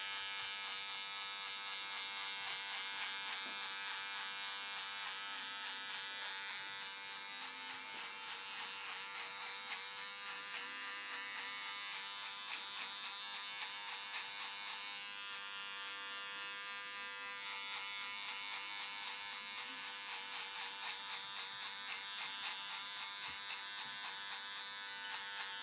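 An electric hair trimmer buzzes steadily and close-up for the whole stretch while it lightly shaves hair on a quick weave closure style, a continuous high whine with small flutters as it moves.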